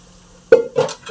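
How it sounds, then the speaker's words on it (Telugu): Rice being stirred in a hot pan, two short scraping strokes with a faint sizzle, close and loud. "ఇప్పుడు నేను తీసుకున్న రైస్ వేసుకొనేసి మంచిగా అంతా వేడేదాకా కలుపుకొనేసి"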